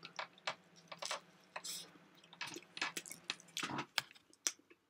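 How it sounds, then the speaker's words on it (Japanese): Close crunchy chewing of jako toast, toast topped with small dried sardines, heard as irregular crisp bites and crunches over a few seconds, with no talk. "はい、これ、食べてみます。 大西さんの推薦のじゃこトースト。"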